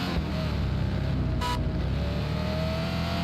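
Sports car engine in a mobile Android city driving game, a steady faint mid-pitched drone with a brief sharp burst midway.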